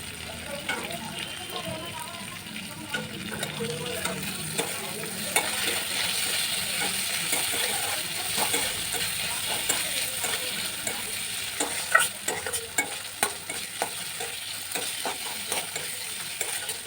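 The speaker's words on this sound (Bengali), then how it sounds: "কিছুক্ষণ এরকম মশলার সঙ্গে সেই ছোলা সিদ্ধটাকে কষিয়ে নিতে হবে।" Boiled chickpeas stir-fried in oil with a cooked spice paste for a Bengali fish dish, giving a steady sizzle with frequent scraping stir strokes throughout. Low voices can be heard faintly in the background.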